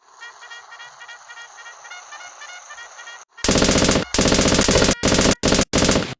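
Machine gun fire in a Lego World War II stop-motion battle: after a quieter tonal stretch, loud close bursts of rapid automatic fire come in several separate volleys with short gaps between them.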